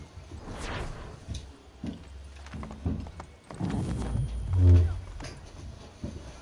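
Hooves clip-clop unevenly on hard ground in Assassin's Creed III, with a low horse snort rising near the end, while a person talks intermittently over the steps.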